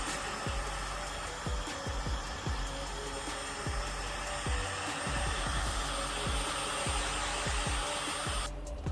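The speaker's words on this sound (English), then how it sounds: "what you want to do is get your heat gun. Just warm up." A heat gun blows a steady, loud roar while warming adhesive for a BMW E90 318d M Performance spoiler install, with periodic low thumps under it and the airflow cutting off near the end.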